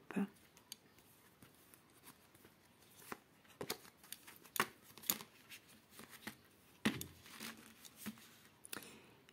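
A tarot deck being cut and handled during a daily reading, with soft papery card flicks, taps and slides in irregular bursts, close and quiet.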